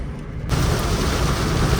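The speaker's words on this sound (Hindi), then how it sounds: "बहुत ही भयंकर वाली बारिश शुरू हो गई है, इतना कि सामने कुछ दिख नहीं रहा है।" Heavy rain pounds a car driving on the road, starting abruptly as a dense, loud roar that fills everything and holds steady without any talking.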